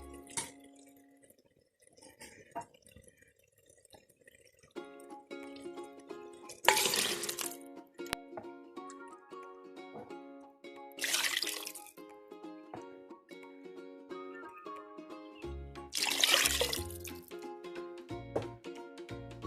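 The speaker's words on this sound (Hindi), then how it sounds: "अब हम इसमें पानी ऐड करेंगे।" Three bowls of water are poured into a cooking pot of rice in three separate splashing bursts, with faint dripping and clinking between them.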